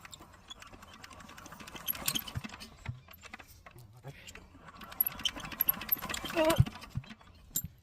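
A shallow irrigation pump engine struggles to start, giving uneven clattering, sputtering bursts that build and fade without settling into a steady run, mixed with people talking nearby.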